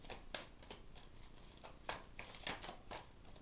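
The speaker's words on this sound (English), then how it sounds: "I will shuffle 2 more times if there's anything else" A deck of tarot cards is shuffled by hand in quiet, soft bursts of riffling and sliding, faint and close, repeating at uneven intervals without speech.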